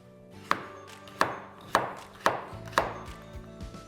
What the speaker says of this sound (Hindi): मूली कट गई